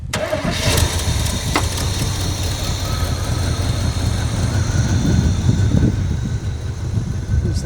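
A 1978 Chevrolet K20 pickup, left sitting for 15 years, cranks and fires up outdoors, then settles into a loud, rough, rumbling idle that carries on steadily throughout.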